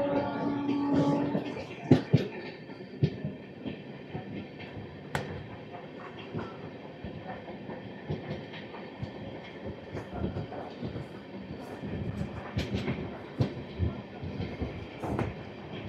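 An Amrit Bharat Express push-pull train is running on its inaugural journey from Brahmapur to Udhna, heard from on board as a steady rumble with rhythmic clickety-clack and sharp wheel clatters throughout.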